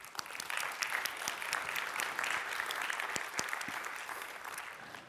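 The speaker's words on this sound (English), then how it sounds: "Big applause." Audience applauding at a robotics software conference keynote, a steady, even wash of many hands clapping, fairly distant and moderate in level, continuing throughout and easing slightly at the end.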